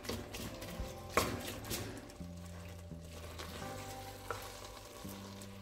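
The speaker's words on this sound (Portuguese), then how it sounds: "Ligue o fogo e deixe a carne cozinhando até secar a água." Shredded pot roast beef cooking in a pan as the water boils off, a soft steady sizzle under clinking from stirring with a utensil.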